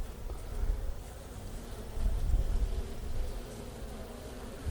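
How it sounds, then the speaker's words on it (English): Honey bees buzzing around an open hive during a routine inspection, a dense, low, continuous hum at moderate distance with no voices. "there's a whole lot of bees there"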